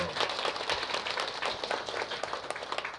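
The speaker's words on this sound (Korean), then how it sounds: "오케이 박수 한번 쳐주세요" Audience clapping at a live music show, a dense steady patter of many hands running throughout, with voices mixed in underneath.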